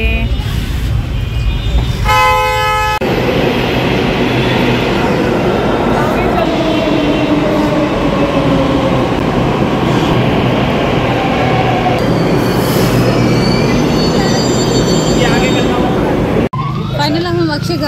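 A metro train in Delhi runs with a continuous loud rumble, a brief horn toot near the start and squealing wheel tones, heard from close by.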